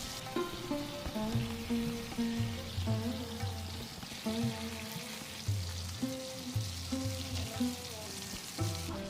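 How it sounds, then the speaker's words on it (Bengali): Prawns frying in mustard oil in a saucepan, a steady close sizzle with periodic scraping and stirring strokes as the pieces are turned, no voices. "এবার এক এক করে চিংড়ি মাছগুলো ভাজতে থাকবো, উল্টে পাল্টে ভাজবো।"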